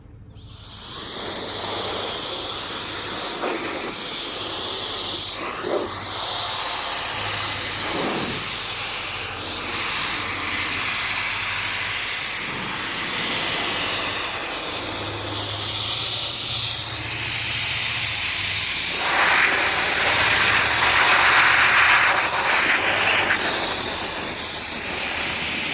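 A HyperTuff cordless car dryer blower runs at speed 3 on a full battery, drying a car with spray-on sealant and no ceramic coating, giving a loud, steady, continuous hiss of rushing air that holds for the whole stretch with small swells in tone.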